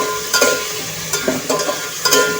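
Tomatoes sautéing with onion in a pan give a soft background sizzle, broken by a few sharp scraping stirs of a utensil against the metal at irregular intervals.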